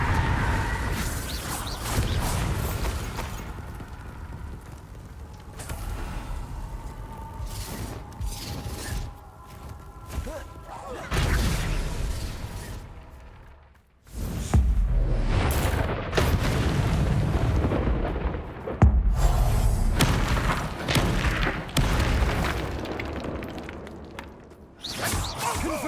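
Explosive spell blasts in Hogwarts Legacy's combat, with repeated heavy booms, whooshes and rumbling impacts in dense bursts, broken by a sudden brief silence midway before the blasts resume.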